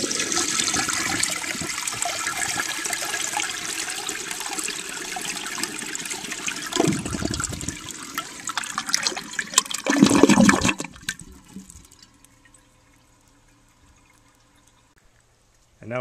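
Water rushes loudly through the jet of an Eljer Waco toilet tested outdoors, heard up close with a strong surge before the flush cuts off abruptly into near silence and a faint refill dribble.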